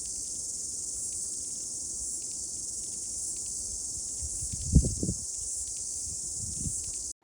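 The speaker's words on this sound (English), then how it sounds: "you will hear a lot of insects that are so loud" Dense, loud insect chirping fills a coastal bush hike in New Zealand, a continuous high shrill drone like crickets or cicadas that never breaks, with a couple of soft rustles or footsteps underneath.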